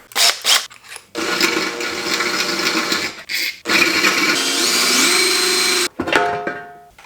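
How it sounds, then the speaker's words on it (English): A power drill grinds into a bolt head on a Porsche 944 engine, running in long loud bursts with pitch shifts as it bites, broken by short pauses and brief stops. "hopefully just drill the head off the"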